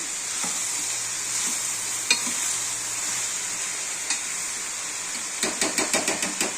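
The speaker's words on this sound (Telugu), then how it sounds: "ఉల్లిపాయలు, పచ్చిమిరకాయలు, సొరకాయ ముక్కలు అన్నీ వేసుకొని పసుపు, ఉప్పు వేసుకొని బాగా కలబెట్టుకొని" Onions, green chillies and bottle gourd pieces with turmeric and salt mixed in a pan over steady sizzling, occasional spoon knocks, then a quick run of taps against the vessel, close by with no speech.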